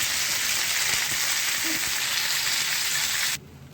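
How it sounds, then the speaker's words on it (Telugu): Gongura (sorrel) leaves frying on low heat in a pan for Andhra-style gongura pachadi, a loud, dense, continuous sizzle that cuts off abruptly near the end. "ఇప్పుడు ఇందులోకి గోంగూర యాడ్ చేసుకొని దీన్ని కూడా ఫ్రై చేసుకోవాలి."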